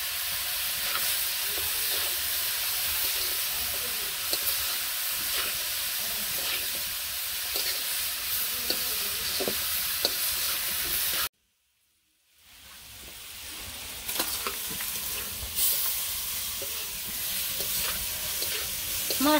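Chili, turmeric and spices fry in a pan in a Bangladeshi village kitchen, a steady loud sizzle with occasional stirring scrapes, briefly cutting to silence before the frying resumes and builds again.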